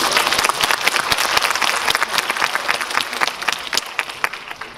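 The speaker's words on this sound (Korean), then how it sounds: "72번 보신 분께는 다시 한번 박수 부탁드립니다." Audience applause at a Korean film screening Q&A for the movie 'Hero' in a CGV cinema hall, a dense, steady patter of many hands clapping close by with no voices.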